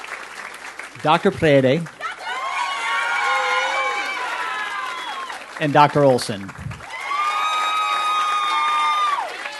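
An audience at a 2022 Ed.D hooding ceremony for educational leadership breaks into loud, sustained applause and cheering with whistles. An announcer's voice calling names interrupts the clapping twice.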